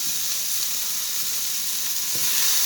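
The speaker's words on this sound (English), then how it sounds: "You'll want to sear it and it'll look kind of like that" Pepper steak sears in a hot pan, giving a steady, even sizzle with faint occasional pops, close and alone with no talking.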